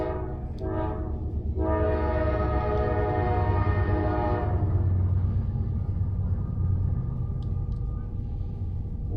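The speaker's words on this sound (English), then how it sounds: "There's a train at my house." A train rolls past close to a house, its loud sustained horn blaring for a few seconds over a steady heavy rumble that lingers after the horn stops.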